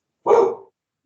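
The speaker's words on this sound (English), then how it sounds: "the noise of the dogs who decided they had to have" A single short dog bark, close and clear, followed by silence.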